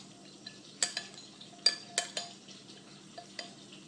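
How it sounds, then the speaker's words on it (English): Metal spoon tossing shallots in a pan: a handful of sharp, bright clinks and scrapes at irregular intervals over a faint, steady background sizzle, close and fairly quiet. "I'm going to grab a spoon. And just do a quick little toss."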